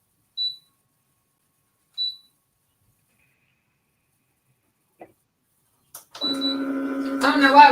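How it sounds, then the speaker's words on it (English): Two short high-pitched electronic beeps a second and a half apart, then quiet clicks before a machine starts up with a humming, rattling whir. "I don't know why it was beeping at me."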